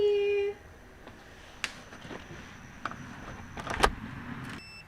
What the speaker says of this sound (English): I just got back into my car